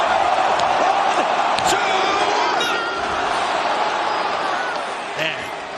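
A packed wrestling arena crowd roars loudly and steadily after a near-fall in the Toni Storm vs Mercedes Moné Women's World Title match at AEW All In Texas, easing off slightly toward the end, with commentators talking over it.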